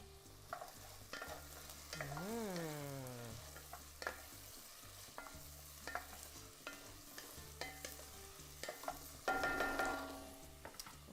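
Garlic and bell pepper frying in a pan as a spoon stirs them, with a soft steady sizzle, scraping strokes and a brief squeaky scrape, close but fairly quiet, and no voices.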